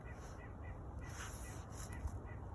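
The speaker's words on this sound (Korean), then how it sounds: "무슨 새가 우는 소리인데?" Bird calling outdoors at a snowy, frozen winter playground in Boston, with harsh duck- or crow-like cries faint and distant under a steady wash of wind and ambient noise, with no talking.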